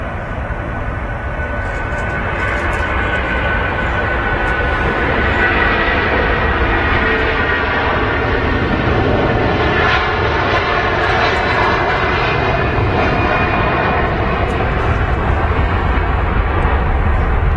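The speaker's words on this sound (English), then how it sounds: "Oh, nice long spool up there from the Turkish 330." A Turkish Airlines Airbus A330 at Manchester Airport spools up for takeoff, its engines building into a long, powerful roar that stays loud and continuous for the whole stretch.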